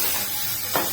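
Tomatoes dropped into a frying pan of sautéed onions give a soft, steady sizzle with a brief hissing burst near the end.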